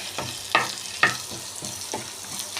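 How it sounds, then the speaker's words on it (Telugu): Potatoes frying and sizzling in a pan, a steady hiss broken by a few sharp stirring scrapes and clinks, close and moderately loud with no voices. "ఫస్ట్ నేనైతే పొటాటో ఫ్రై చేసుకున్నా."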